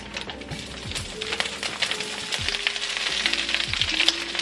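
Vegetables hiss and crackle loudly in hot oil, the sizzle building and thickening over a few seconds, with clinks of a utensil against the pan.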